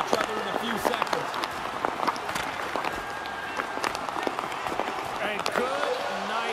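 A hockey arena crowd in NHL 23 roars during an on-ice fight, a loud sustained cheer broken by sharp bursts and thuds. Commentators talk over it.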